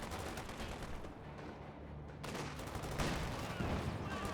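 Gunfire from a Company of Heroes 2 battle, with a sniper and grenadier shooting at Royal Engineers: dense, steady volleys of shots and explosions that build slightly louder toward the end, under a continuous wash of battlefield noise.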